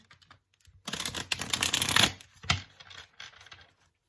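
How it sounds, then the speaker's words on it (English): A small pocket-size Rider-Waite tarot deck is shuffled close by, giving a dense riffling burst of card flicks for about a second and a half, then a few shorter slides and taps as the cards settle. "let's shuffle this one more time"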